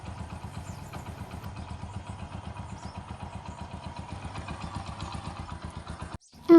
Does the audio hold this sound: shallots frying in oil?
no